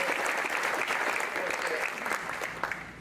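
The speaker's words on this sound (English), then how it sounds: "Big round of applause for all of our sponsors." Round of applause for the sponsors at a chamber of commerce breakfast, a dense, steady wash of crowd clapping that holds at a loud level and tapers slightly toward the end.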